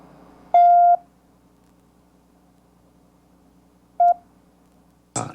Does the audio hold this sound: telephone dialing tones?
yes